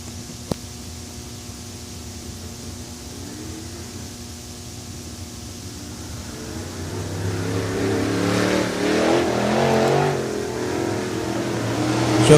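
Crate race cars at Swainsboro Raceway in Georgia rev their engines during a Turkey 100 weekend, starting faint and distant, then growing louder as the roar builds and surges near the end.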